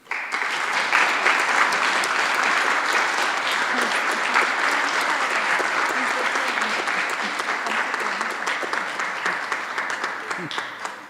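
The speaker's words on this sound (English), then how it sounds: "Again, a round of applause." Sustained applause from a school audience at an honours evening as a top grade 12 student receives a trophy, a dense, even roar of many clapping hands that starts abruptly and holds steady at close range, loud throughout.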